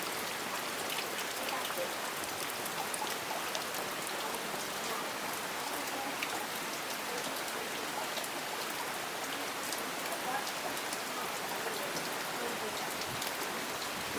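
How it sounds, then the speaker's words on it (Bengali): Steady rain pouring during a village storm, a dense continuous hiss of drops on surfaces throughout, moderately close with no break. "এখানে পানি পড়তেছে বৃষ্টির পানি এখানে পড়তেছে"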